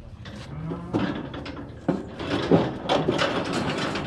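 Cattle low and moo during a farm weighing session, with a heavy cow being coaxed along, mixed with clanks and knocks from handling gear at close range.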